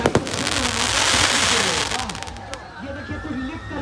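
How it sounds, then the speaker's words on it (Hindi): Fireworks burst at the Dewa fair with sharp crackling pops at the start and a dense loud crackle, then scattered bangs fading out while a crowd murmurs and a voice talks nearby. "वेलकम सर लिख कर आया सर आतिशबाजी के जरिए"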